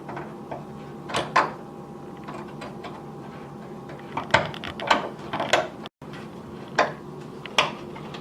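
Twisting a plastic wire nut off a range hood ground wire, faint scattered scratchy clicks and soft creaks, close up and irregular, with small plastic-on-metal rattles.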